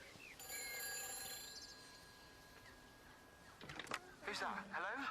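An old telephone rings in Everybody's Gone to the Rapture, thin steady tones lasting about a second, followed by scattered clanks and rustling movement sounds, fairly faint over a hushed background.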